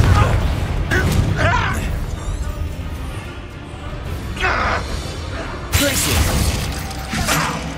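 Fiery spell blasts from the Confringo curse in Hogwarts Legacy, fought inside an abandoned mine, burst out as booming, shattering impacts at intervals amid continuous battle noise, while voices shout during the fight.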